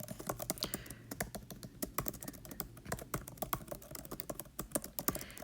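Steady computer keyboard typing during a writing class, close crisp key clicks in an irregular, continuous rhythm with no talk.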